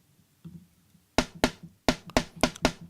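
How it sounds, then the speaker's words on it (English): A snappy snare drum sample struck several times in a loose rhythm, each hit crisp and short with a quick decay, after a faint soft tap. "There is a snare called the popcorn snare that I really like."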